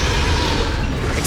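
Confringo blasting spell exploding in Hogwarts Legacy, a sustained loud roaring burst of broadband noise filling the whole moment with no break.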